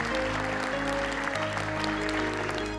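Faint applause from people at a gathering honouring a Korean businessman in Malaysia, a soft wash of clapping blended beneath sustained, humming musical tones.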